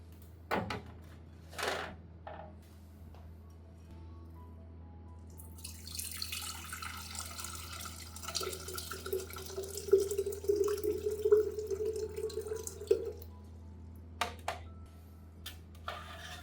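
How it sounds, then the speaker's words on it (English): Garlic water being strained to remove the residue, heard as a soft steady trickle of liquid pouring for several seconds, with faint clinks and small knocks before and after, close and quiet. "strain the garlic water and remove the residue"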